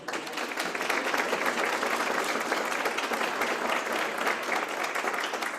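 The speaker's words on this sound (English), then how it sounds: "let's give them a quick round of applause" Evening event audience giving a round of applause for sponsoring donors, a full, even crowd clapping that holds steady throughout, moderately distant.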